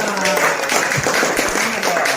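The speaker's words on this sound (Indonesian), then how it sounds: "tepuk tangan dong" Scattered applause from a group at an anniversary gathering, brief clapping mixed with chatter and voices in a room.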